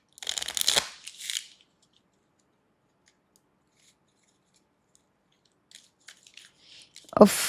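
Tarot cards shuffled by hand by someone with long nails during a card reading, in two short rustling bursts at the start and a quick riffle at the end, with near silence between.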